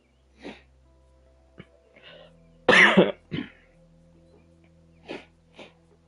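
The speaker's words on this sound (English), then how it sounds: "I feel like I have to cough again." A person coughs in a harsh burst, with throat clearing and scattered breathy noises before and after in an otherwise quiet room.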